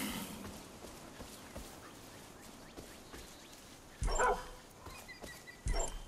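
A dog in Far Cry 5 gives two short loud barks in the latter half, standing out over a quiet game background with faint rustling and no speech.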